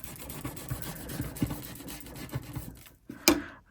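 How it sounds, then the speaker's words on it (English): A squeegee rubs firmly over a rub-on transfer laid on a resin coaster, giving close, scratchy rasping strokes in an uneven rhythm, with a sharper scrape near the end. "I'm going to give that a good rub with a squeegee and around those edges as well"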